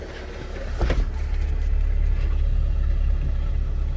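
A 2002 Honda Civic LX engine with 166k miles idles steadily with a low droning hum and faint whine, suspected torque converter noise, after a brief clunk near the start; no voices.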